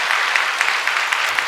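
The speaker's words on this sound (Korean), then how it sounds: "박수 한번 치면 안 될까?" A church congregation at a Sunday worship service claps together in a brief, fairly steady burst of applause, with evenly spaced hand claps blending into a soft wash of sound across the room.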